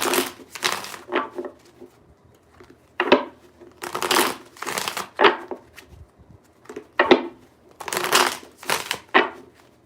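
Tarot cards being shuffled in several bursts, crisp riffling and slapping of the deck with short pauses between rounds, close and fairly loud, with no talking.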